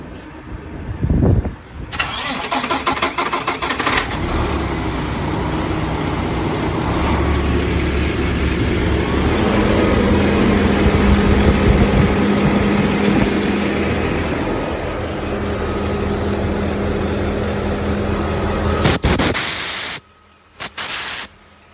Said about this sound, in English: Turn on the truck